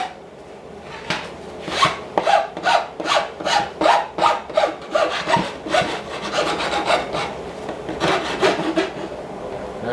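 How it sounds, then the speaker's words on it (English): A metal file is drawn back and forth over the edges of a wooden board for a distressed board bench, making a close, rhythmic series of rasping strokes that speed up and slow down. "I'm going to use a file, and I'm just going to smooth out the edges a little bit"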